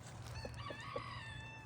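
Hens and a rooster from a backyard flock cluck in short, soft bursts at close range over a steady low background hum, with no talk.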